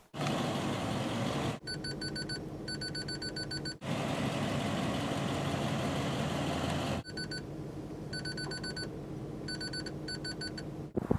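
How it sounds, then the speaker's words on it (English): Rapid electronic beeps sound in repeated bursts over a steady engine hum, pausing and then resuming, close and clear. "So it's always beeping because it always thinks I'm about to hit my bumper."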